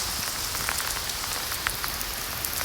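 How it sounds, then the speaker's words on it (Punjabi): Heavy rain pours down steadily, a dense, loud hiss with scattered sharper drops pattering on a surface throughout. "ਹੁਣ ਮੀਂਹ ਉਤਰਿਆ ਪੂਰੇ ਜ਼ੋਰ ਦਾ"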